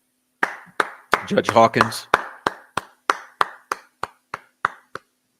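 Live hand clapping in applause, roughly a dozen sharp, evenly spaced claps close to the mic that follow a short burst of speech and continue alone at a steady rhythm.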